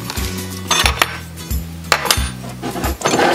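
A metal spoon clinks and scrapes against dishes in a home kitchen while making banana-based nice cream, a string of sharp ringing clatters spaced about half a second apart, close and loud with no talking.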